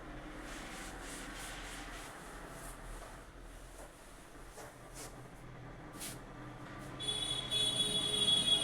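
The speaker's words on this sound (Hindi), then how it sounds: "इसको रब करते हैं," A board eraser rubs out written working on a classroom board during a trigonometry lesson, giving a steady soft scraping hiss that continues throughout and grows a little louder near the end, with no talk.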